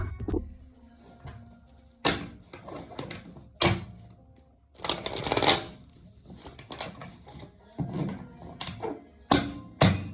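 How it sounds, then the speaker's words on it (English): Irregular papery riffles and soft thumps of tarot cards being shuffled by hand, close by, in uneven bursts with pauses between. "We have to shuffle."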